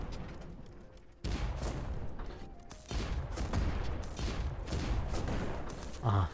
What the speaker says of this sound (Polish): ten kanon nie strzela razy 3, tylko razy 1